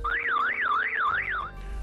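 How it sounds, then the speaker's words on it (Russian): Car alarm going off at night, a loud two-tone siren sweeping up and down in a steady warbling cycle, then cutting out abruptly near the end. "как сигнализация снова сработала"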